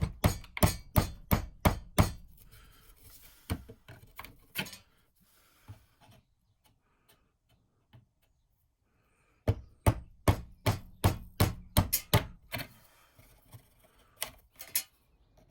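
Rapid bursts of sharp chisel-and-mallet strikes chop out wood for a Japanese saw storage piece, close and loud, in quick rhythmic runs with a quiet pause between two flurries.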